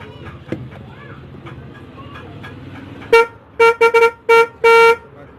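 A repaired vehicle horn is tested in a series of loud honks: one longer blast, then several short toots and a final sustained beep, following quieter workshop noise and a brief voice.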